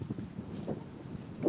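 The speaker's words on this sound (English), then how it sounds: "It's windy." Wind blowing outdoors, buffeting the microphone in a steady low rumble with gusty swells over a short stretch, no voices.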